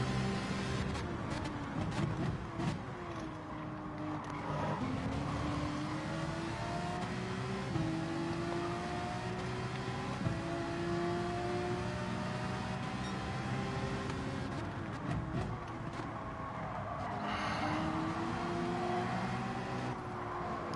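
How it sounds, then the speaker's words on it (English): A twin turbo V8 McLaren race car engine in Gran Turismo 7, rising and falling revs across gear changes, fairly close behind and sustained over the whole stretch, no talking. "I can hear that twin turbo V8 McLaren behind me."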